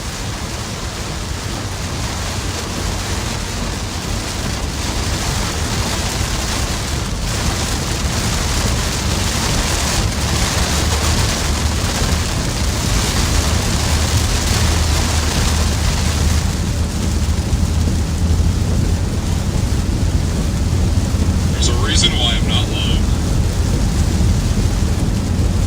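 Heavy rain drums steadily on a moving car during a southern US storm, a dense continuous wash of noise with road rumble beneath and a short faint chirp near the end.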